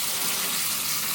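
Running water from a tap rinsing frozen sweet corn in a home kitchen, a continuous close gushing splash with no pauses.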